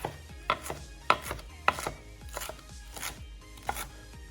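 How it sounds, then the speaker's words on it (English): A knife chops fresh cilantro roughly on a cutting board, with a quiet series of irregular, sharp knocks spread across the clip and no talking. "So we're gonna do a rough chop on this."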